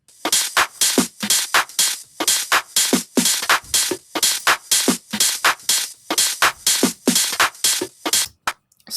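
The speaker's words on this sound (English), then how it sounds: "I'll build my drums up, so I have my kick, my hat, my clap, and maybe a snare or something like that" Layered electronic drums made of kick, hi-hat, clap and snare with filler loop fragments pound in a dense, tightly repeating pattern of sharp bright hits, loud and upfront, before cutting off near the end.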